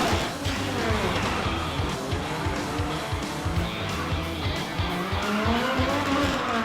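Race cars roar past at the Grand Prix de la Cité street race in Port-Louis, loud engines revving continuously with tire squeals and skidding, close and dense throughout.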